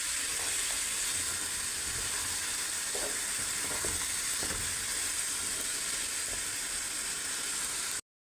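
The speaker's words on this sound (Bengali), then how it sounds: "এখন এটা আমি ভালোভাবে কষিয়ে নেব" Kashmiri mutton rogan masala frying in a pan, a dense continuous sizzle and hiss with a few faint scrapes of stirring underneath, steady and close throughout.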